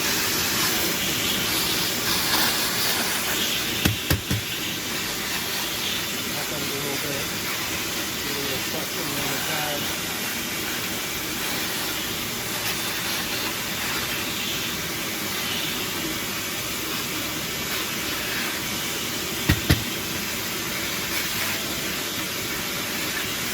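Shop vac cleaning out a Dyson DC40 Animal roller-ball vacuum, giving a steady, loud, continuous motor roar with an airy whine, broken only by a couple of brief clunks.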